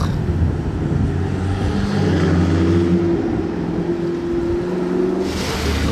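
A McLaren MP4 supercar drives past with a steady, loud engine drone whose tone shifts as it goes by, set against constant traffic and street noise.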